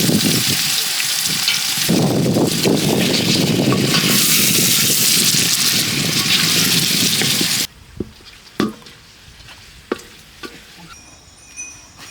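Mutton dropped into hot oil with fried onions, a loud continuous sizzle and gushing hiss for several seconds, then quieter scattered clatters and stirring sounds.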